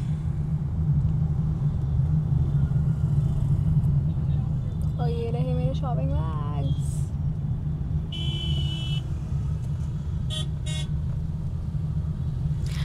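Road traffic heard from inside a vehicle, with a constant low engine rumble, a couple of short car horn toots from outside, and someone talking over it.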